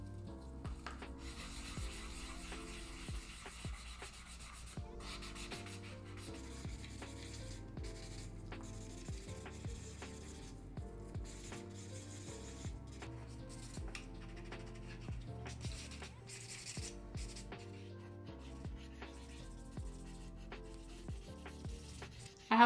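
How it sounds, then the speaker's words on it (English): A finer grit sanding block rubs across a resin 3D print in steady back-and-forth strokes, a soft continuous rasp at close range with no talking. "I'm now going to move on to a finer grit sanding block"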